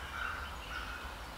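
A wild turkey gobbles in the woods during a late-season hunt. The rolling gobbles are faint and distant against quiet outdoor background noise.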